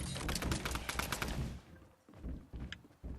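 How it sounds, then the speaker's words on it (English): Rapid bursts of gunshots in the video game Fortnite, a quick volley of shots for about a second and a half, then quieter scattered game sounds with a few softer pops. "Shots fired from over here."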